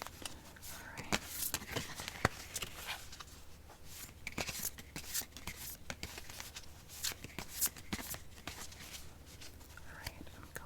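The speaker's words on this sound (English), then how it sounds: "So I am going to shuffle." A deck of cards being shuffled in a quiet, close-up ASMR setting, heard as a run of soft, rapid riffling and flicking bursts, with faint whispering and handling noises around it.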